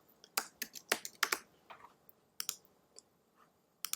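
Keys on a computer keyboard are typed in short, irregular bursts of crisp clicks, quiet and close, with brief pauses between clusters of keystrokes and no speech.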